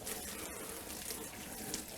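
Water gushes steadily while a dog's face is rinsed during a bath, a continuous close hiss of running water from a hose or tap with no break, part of double-coat grooming.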